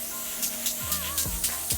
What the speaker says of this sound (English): Just start spraying pretty lightly in the eyebrow stencil